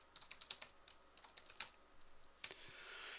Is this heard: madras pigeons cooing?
no